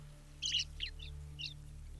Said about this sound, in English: Northern birds give the woods its voice, the evening grosbeak.